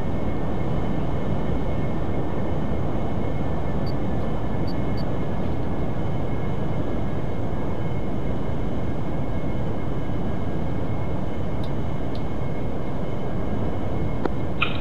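A Harrier jet in a video game roars at a constant level as it flies, a dense broadband rumble that holds steady from start to finish with faint tonal hums above it.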